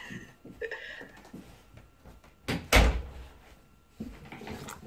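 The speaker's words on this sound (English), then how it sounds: "I had to shut the door." A door shuts in a room during a meeting with a solid thud, heard once amid quiet background noise and faint scattered talk.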